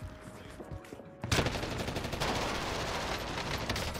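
Gunfire in a video game: a few sparse distant shots, then a sudden dense burst of rapid automatic fire that continues as a sustained, crackling barrage.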